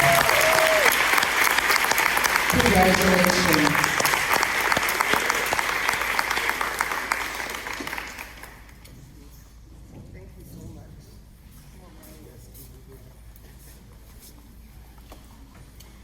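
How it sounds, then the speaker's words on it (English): A room full of guests at a women's scholarship luncheon breaks into a strong round of applause honoring a community service award winner; the clapping fades after about eight seconds, leaving a speaker talking over quiet room noise. "Give Leslie Morris a round of applause."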